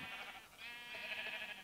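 Overlapping sheep bleats from a video game form a continuous wavering, buzzy bleating that carries close and fairly loud across the whole short stretch.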